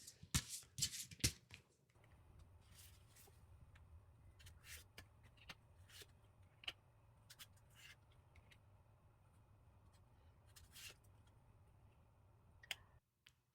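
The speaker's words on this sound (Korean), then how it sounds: "타로 카드 먼저 뽑아볼게요." Tarot cards are shuffled by hand, with a few loud riffling bursts at the start. Softer, scattered ticks and taps of card handling follow over quiet room noise, and no one speaks.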